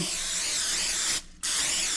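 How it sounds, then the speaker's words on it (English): A steady, broadband hiss of aerosol cooking spray, held for about a second, breaks briefly, then resumes just as loud and close. "First, you're going to spray your pan."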